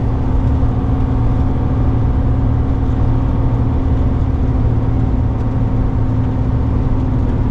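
A car engine held at fairly high revs while engine braking with no fuel being fed, a steady droning hum that stays constant and loud inside the cabin without any change in pitch or level.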